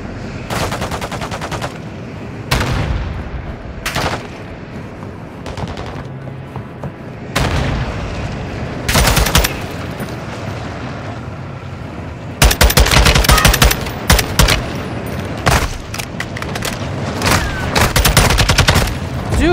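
Heavy gunfire in Call of Duty: Modern Warfare II, with loud bursts of automatic and rapid shots coming in repeated clusters along with booming impacts, dense and close throughout.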